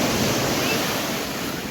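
Ocean waves wash up on Marina Beach in Chennai, a steady close surf roar with faint wind noise and no break in the rush of water.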